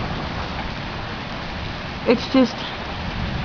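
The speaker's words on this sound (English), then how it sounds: "This is video number 2 of the flashing lightning and weird rain." Steady rain hisses throughout a summer thunderstorm, a constant wash of noise with a brief voice speaking near the end.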